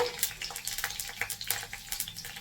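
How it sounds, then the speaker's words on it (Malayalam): Green chillies go into hot coconut oil with a crackly, spitting sizzle of rapid irregular pops over a soft hiss, fairly quiet and close. "ചൂടായ വെളിച്ചെണ്ണയിലേക്ക് നമ്മൾ പച്ചമുളക്"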